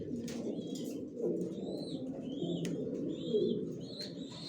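Large racing pigeons in a loft keep up a steady low cooing, a soft continuous murmur with a few thin chirps and faint wing sounds over it, fairly quiet and close.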